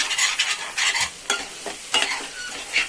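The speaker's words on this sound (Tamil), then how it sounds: "பாருங்க, நல்லா சிக்கன் வெந்துட்டு இருக்குது." A spoon scrapes and stirs chicken frying in oil in a heavy-bottomed pan in quick, uneven strokes, with a soft sizzle underneath.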